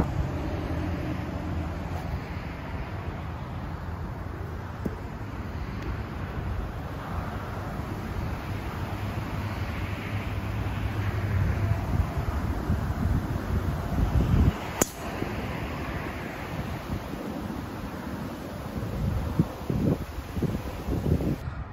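Wind blowing across an open golf course on Maui, a steady broadband rushing that swells and fades, buffeting the microphone with low rumbles and a brief sharp knock partway through, no voices.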